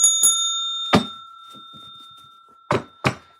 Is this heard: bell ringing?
yes